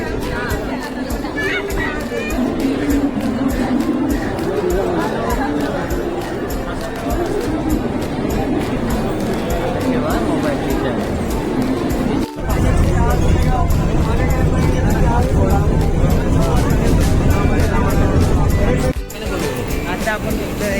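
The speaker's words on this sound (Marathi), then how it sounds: "दादर स्टेशनला खूप गर्दी आहे बघा" Busy Dadar railway station in Mumbai carries a dense crowd hubbub of overlapping voices and chatter, with steady background noise and a brief knock partway through.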